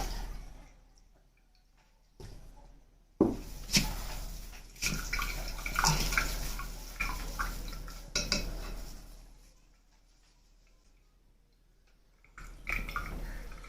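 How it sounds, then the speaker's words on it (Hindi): Water sloshes and trickles with soft clinks of a metal strainer and bowl as tamarind and dried plum are strained for sharbat, a few louder bursts of pouring and rinsing amid quiet pauses. "अब इसको दूसरी छाननी के अंदर ये छान लेंगे ऐसे जो पानी है"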